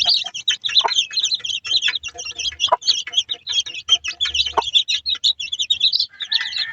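A mother hen clucks steadily and close by over a chorus of small chick-like chirps and peeps, with a few sharper calls breaking through now and then.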